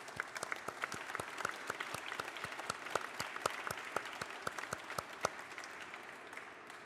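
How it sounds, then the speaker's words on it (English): Applause from an audience at a South Asian Heritage Month celebration, fairly faint and distant, with individual claps standing out in a steady rhythm under the room's murmur. "Let's give her a round of applause"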